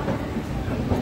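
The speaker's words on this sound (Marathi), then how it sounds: "आता मस्त ट्रेन चालू आहे" A moving passenger train bound for the Konkan region rumbles in a low, steady drone, heard from on board with no talk.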